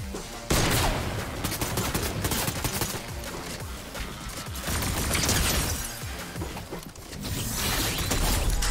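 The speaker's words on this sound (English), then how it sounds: "I am getting shot from all angles right now" Dense, continuous gunfire from the Fortnite video game, rapid overlapping shots and bursts from many directions, loud and close, sustained across the whole stretch with brief crashing impacts mixed in.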